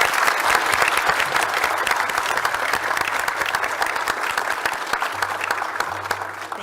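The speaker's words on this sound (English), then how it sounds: "If we can have a round of applause for our students." An audience at a county board of commissioners meeting claps for students, a dense, steady round of applause throughout with no break.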